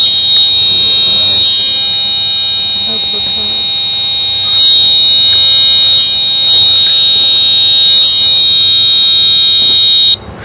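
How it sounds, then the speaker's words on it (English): A Find and Remind device alarm sounds when disconnected, a continuous loud high-pitched electronic beep that runs steadily for about ten seconds and then cuts off, with a voice talking faintly underneath. "the alarm will emit sound and the light will turn off"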